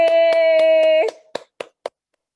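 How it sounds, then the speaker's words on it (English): Rhythmic hand claps, about five even beats under a sustained musical tone, then three separate claps trailing off into silence, close and clear. "all of them deserve a huge round of applause"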